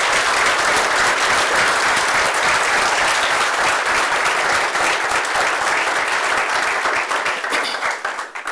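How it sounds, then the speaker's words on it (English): Sustained, dense applause fills a city council meeting room, loud and even throughout before beginning to thin out into scattered claps at the end. "Let's give everyone in here a round of applause for their commitment to keeping all of us happy at home."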